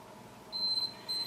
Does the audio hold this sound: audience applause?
no